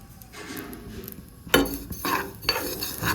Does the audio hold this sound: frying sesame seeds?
yes